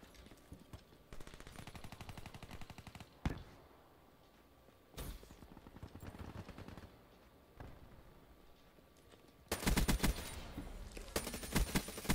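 The god gun in the Black Ops 3 video game fires in rapid automatic bursts: dense rattling volleys broken by short pauses, then a loud sustained stretch of fire near the end.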